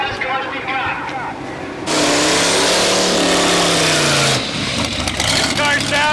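A drag racing car, a Firebird, revs hard at the strip, its engine note climbing into a loud sustained roar before dropping back, with crowd and track noise around it.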